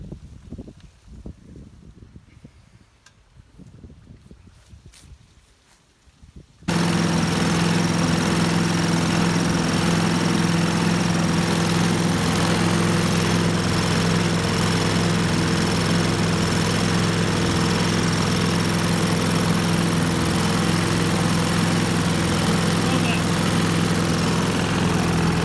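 A Sears Craftsman 5HP air sweeper engine starts and runs at a loud, steady roar with a constant droning hum after a quieter stretch of handling noise and talk.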